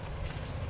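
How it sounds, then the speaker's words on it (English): Steady rain falls outdoors with a dense, even hiss and patter of drops continuing throughout, no voices. "It's raining."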